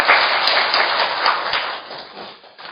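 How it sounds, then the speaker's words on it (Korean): An audience at a youth safety forum in a hall claps to welcome a speaker, a dense, even wash of applause that fades slightly toward the end. "박수로 맞이하겠습니다."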